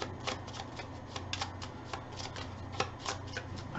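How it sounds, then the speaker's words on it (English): A discard pile of playing cards riffled and shuffled into a new draw deck during a tabletop card game, a run of quick papery riffles and taps repeating close by without any voices. "I shuffle my discard pile into a new draw deck"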